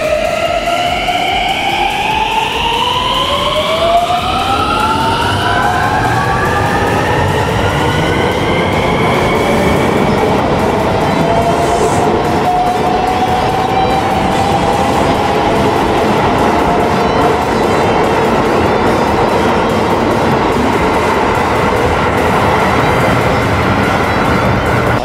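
The JR Shikoku Rapid Marine Liner train leaves Sakaide Station in Shikoku, its electric motors whining upward in rising tones as it pulls away, over a constant loud roar and rumble of wheels on rail that fills the whole stretch.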